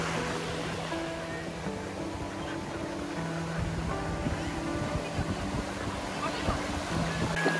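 Sea waves wash in at Puri beach, a continuous broad surf roar heard close by, with background music playing over it throughout.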